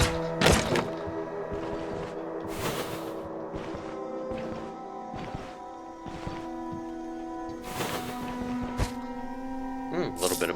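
Melee weapon smashing open containers in the dungeon-crawler Stoneshard, a series of dull thunks and thuds spaced through the stretch, each followed by a short crash, over a steady game music hum.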